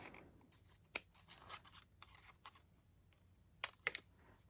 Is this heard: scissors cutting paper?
yes